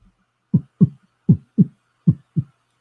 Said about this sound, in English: That's my heartbeat sound effect.